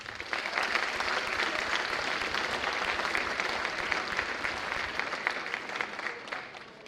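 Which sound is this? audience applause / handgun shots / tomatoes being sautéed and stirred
audience applause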